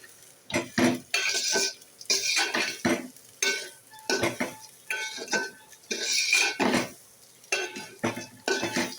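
Rice being stirred in a pan with cashews and raisins frying for Basanti pulao: repeated scraping strokes of a metal spoon against the pan, with clinks and a light sizzle between them.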